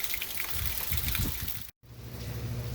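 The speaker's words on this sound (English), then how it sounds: "it's a nasty day out. Raining, cloudy, cold." Steady rain on a cold, cloudy day makes a dense, close hiss of patter that cuts out briefly before resuming as a softer, lower wash.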